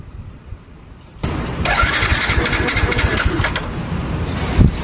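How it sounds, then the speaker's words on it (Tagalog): A scooter engine cranks over and over without catching because of a drained four-year-old battery, a steady churning rattle that starts abruptly after a quiet moment and runs on, close by. "nang i-start ko na ang motor ko, eto nangyari"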